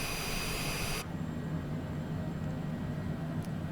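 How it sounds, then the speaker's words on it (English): A Citation Longitude jet engine in a flight simulator video game spools up as a broad, steady whooshing roar. A bright high whine cuts out after about a second, and the roar then runs on evenly with no talk. "right engine's all spooled up, and we'll do the left."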